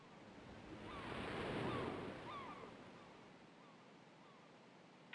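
Ocean surf in King's Quest IV swells and recedes as waves roll in, a broad washing hiss peaking then easing, with a light windy texture and no talking.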